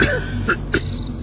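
Two short coughs from a narrator voicing a character choking on dust in a Hindi ghost story, close and dry over a constant low ambient hum.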